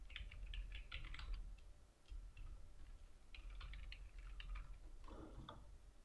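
Typing on a computer keyboard, heard as bursts of quick, close key clicks with short pauses in between, over a low steady room hum and with no speech.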